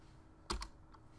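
A few quick, close key presses on a computer keyboard, two clicks in rapid succession followed by a fainter third, in a quiet room.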